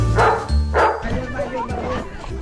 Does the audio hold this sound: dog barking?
yes